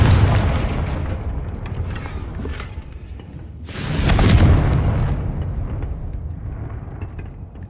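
A Confringo fire-blast spell goes off in Hogwarts Legacy with a heavy booming blast and rumbling tail, then a second louder burst swells and slowly fades.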